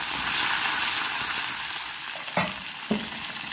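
Mustard seeds and curry leaves fry in hot oil for tomato chutney, a loud continuous crackling sizzle close by, with two sharp pops near the end and no speech.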